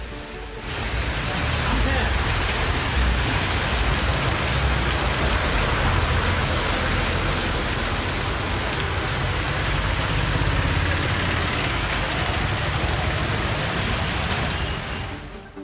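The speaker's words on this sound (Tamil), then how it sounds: "திருவாரூர் மற்றும் அதன் சுற்றுவட்டார பகுதிகளில் பலத்த காற்றுடன் கனமழை வெளுத்து வாங்கியது" Heavy rain with strong wind pours down around Thiruvarur, a dense, loud, continuous roar of rain on surfaces lasting throughout, with a faint hint of traffic beneath.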